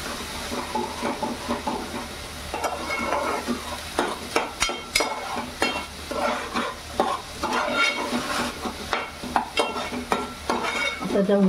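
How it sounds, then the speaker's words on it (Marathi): Onion paste frying in oil over a high gas flame for an egg paneer masala, with a continuous loud sizzle broken by repeated rhythmic stirring and scraping strokes close by. "गॅस मी फास्ट ठेवली आहे, कांदा शिजायला जरा टाईम लागते ना"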